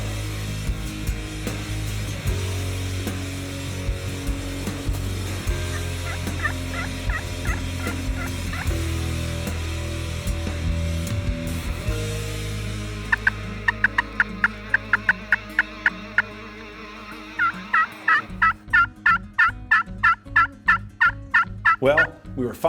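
A wild turkey gobbles again and again, loud, repeated calls ringing out over steady outdoor background noise during a hunt in Mexico, with sharper gobbles bunching together near the end.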